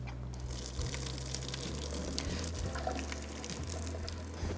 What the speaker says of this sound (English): So we're gonna go ahead and take it to the sink and drain them.